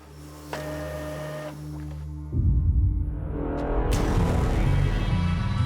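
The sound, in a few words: hospital printer printing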